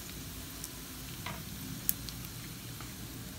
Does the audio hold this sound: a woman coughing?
no